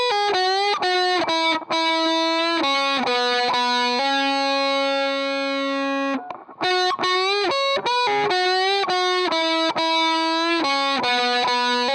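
Distorted electric guitar plays a run of picked notes from a guitar solo, then holds one note and bends it upward before the picking resumes. The tone is loud and gritty, with no voices.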